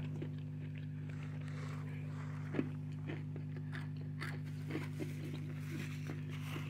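Crunchy, slightly dry chicken tenders being bitten and chewed close up, with sharp crunches scattered across a steady low electrical hum in the background.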